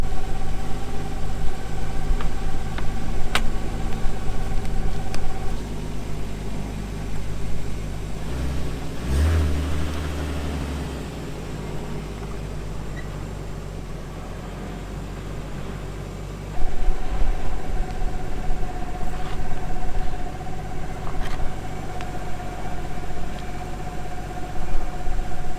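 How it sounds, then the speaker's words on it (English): A car's engine idles and revs steadily at close range for about 25 seconds while it is backed down off a pair of car ramps, with a brief thump partway through and no talk. "Let me just reverse the car off of the ramps"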